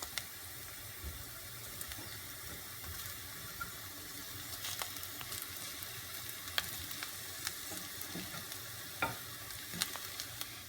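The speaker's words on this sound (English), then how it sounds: "Now that I have fried them in the extra virgin olive oil and they have become golden, you get the meatballs and you put them in." Meatballs frying in extra virgin olive oil give a steady, faint sizzle with scattered soft pops and crackles throughout, and no voices.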